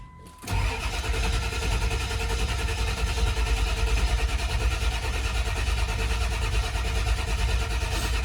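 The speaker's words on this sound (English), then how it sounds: "usually she always does fire up after about 30 seconds of cranking" A 7.3 litre Ford Excursion engine cranks without catching. The starter drones loudly and continuously, with no talk over it.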